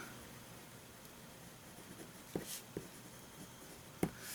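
A Waterman Expert fountain pen writes on paper, a faint, soft scratching close up over quiet hiss, with a few slightly sharper ticks as strokes start and the pen lifts.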